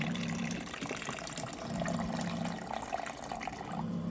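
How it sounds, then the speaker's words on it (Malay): Water poured into ice water for a sweet bun dough, a steady close splashing gush filling a container throughout, with no voices. "air kita campur dengan air batu"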